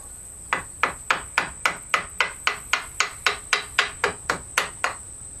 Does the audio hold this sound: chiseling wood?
yes